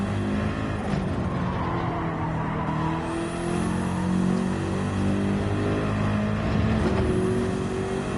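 A BMW race car engine in the Gran Turismo 7 video game revs steadily and loudly, its pitch climbing and dropping through gear changes as the car accelerates, with no talking over it.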